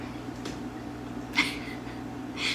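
A pet calico gray tabby mix cat gives a few short, fairly faint meows spaced apart against a quiet indoor hum, with no one speaking.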